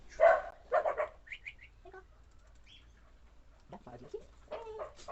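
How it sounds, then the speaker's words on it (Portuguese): A few sharp barks sound nearby, mixed with clucking birds, followed by a person speaking briefly. "eu chamo os cachorros pra eles pararem de latir"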